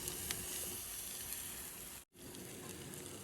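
A pressure cooker lets off a steady, loud hiss of escaping steam, a continuous rushing noise that cuts out for a split second midway and then resumes.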